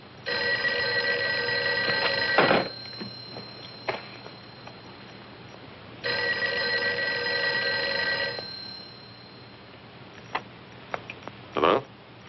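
An old-fashioned telephone bell rings in two long, loud bursts with a pause between them, followed by a few faint clicks and handling sounds.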